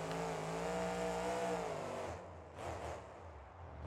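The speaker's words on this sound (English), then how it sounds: "Just gotta let that engine roar." A monster truck's engine in the BeamNG Drive racing game revs hard with a sustained, rising harmonic roar, then cuts off abruptly into quieter rumbling and a brief mechanical burst.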